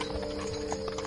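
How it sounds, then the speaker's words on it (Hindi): Three horse-drawn carriages approaching a palace gate, hooves clip-clopping steadily over a humming background, moderately distant. "3 घोड़ा गाड़ी वाले, वो तो इधर ही आ रहे हैं"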